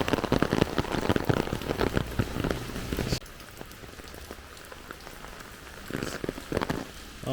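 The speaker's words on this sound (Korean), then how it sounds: "그래가지고 이 비가 다 맞네 진짜" Rain falling steadily outdoors, loud and dense at first with heavy close pattering, then softening abruptly into a quieter, even hiss before picking up again near the end.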